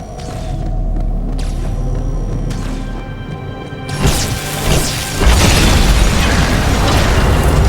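A Sentinel blows up in Halo 2 when a severed cable strikes it: mechanical whirring and humming suddenly give way to a loud burst, then a sustained roaring explosion rumble.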